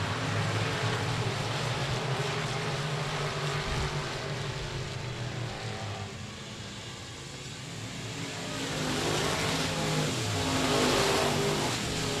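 Modified race cars roaring around the Texarkana 67 Speedway oval, a steady engine drone that swells and fades as cars pass, then builds again toward the end, loud and continuous with no talk.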